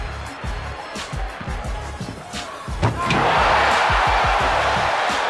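A crowd at a slam dunk contest erupts into loud, sustained cheering and roaring after a stretch of commentator talk, the din holding steady to the end.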